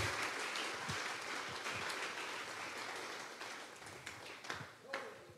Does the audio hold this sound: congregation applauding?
yes